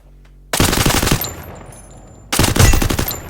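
A UMP submachine gun fires in two loud, rapid full-auto bursts in Free Fire, each about two seconds long with a pause between, close and dominant.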